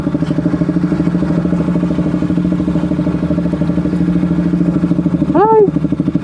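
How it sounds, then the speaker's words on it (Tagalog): Several motorcycles idle together at a motovlogger meetup venue in Urdaneta City, Pangasinan, a steady, loud, close rumble throughout with a brief rising voice-like tone near the end. "Ganda ng tunog ng motor nila"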